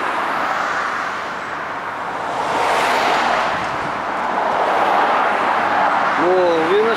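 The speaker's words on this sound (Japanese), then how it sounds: "うるさいわ、車が通ってうるさいね" Cars hiss past on a busy road beside the Nintoku imperial tomb in the Mozu kofun group. A broad whoosh swells and fades as one vehicle passes close, over constant traffic, and a voice speaks briefly near the end.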